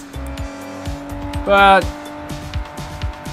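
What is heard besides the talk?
car racing with tire squeal in video game Sleeping Dogs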